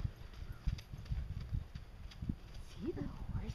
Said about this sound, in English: Look at the horsey.